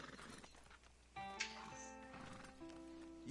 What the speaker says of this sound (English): Is that horse okay, Alpha?